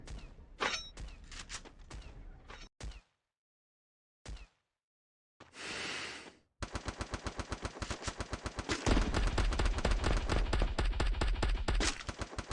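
AK rifle fire in the Free Fire battle royale game: scattered shots and short bursts separated by silent gaps, then sustained rapid automatic fire that grows louder and denser toward the end, with no talk.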